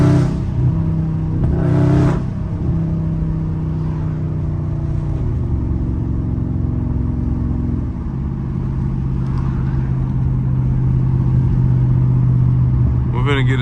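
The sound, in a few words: two Dodge Scat Pack cars drifting, engines revving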